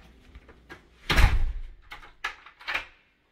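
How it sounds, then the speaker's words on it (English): A garage door at home closes with a heavy thud, then gives a few lighter knocks and rattles as it settles. The sounds come in short bursts over about three seconds and are fairly close. "Garage door."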